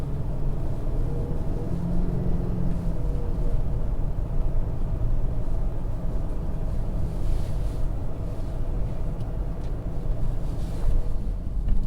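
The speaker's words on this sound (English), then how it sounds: "Don't know if you can hear the engine noise." Inside a 2021 Ford Bronco Sport Badlands while driving, a steady low engine drone blends with broad road and wind rumble at an even, fairly loud level throughout, with no talking.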